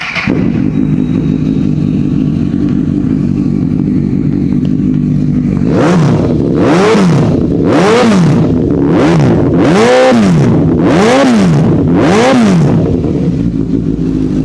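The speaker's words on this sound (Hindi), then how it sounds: "तो एक बार बाइक की आपको साउंड सुनाते हैं।" A second-hand superbike with an aftermarket exhaust idles with a deep, steady rumble, then is revved in about seven sharp, loud bursts that rise and fall in quick succession, close by.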